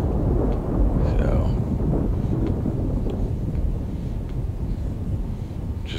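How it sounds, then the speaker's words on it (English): A heavy thunderstorm in the DCS World flight game gives continuous deep thunder rumble, rain and wind, loud and unbroken across the whole stretch. "we were flying this in heavy thunderstorm."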